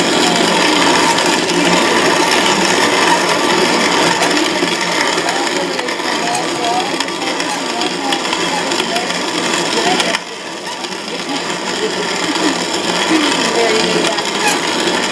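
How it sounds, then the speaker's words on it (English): Stored grain, including corn for cornbread, being ground in a grain mill, a steady coarse rasping whir that runs continuously with a brief dip partway through, close and loud. "we're going to grind on that a little bit, work this down"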